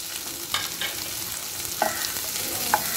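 Onion, green chili and curry leaves sautéing in hot oil in a pan, a soft continuous sizzle with a few scraping stirs of a spoon, no voices.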